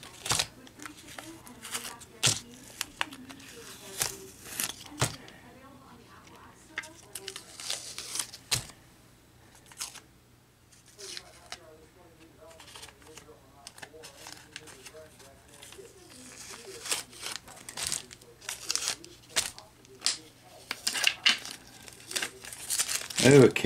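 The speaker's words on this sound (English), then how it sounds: "we can take the paper tape off" Paper masking tape being peeled off a freshly painted model, with scattered crinkling and tearing rips close by, sometimes in bursts, while a person talks quietly in between.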